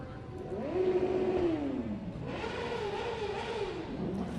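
Motorcycles from a club roll past in a Veteran's Day parade, engines revving up and easing off in two rising and falling sweeps, moderately loud at mid distance.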